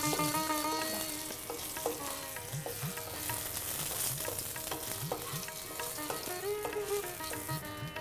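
Eggplant fries in oil with five-spice seeds, a loud continuous sizzle and crackle close up, with rhythmic scraping of a spatula stirring through it.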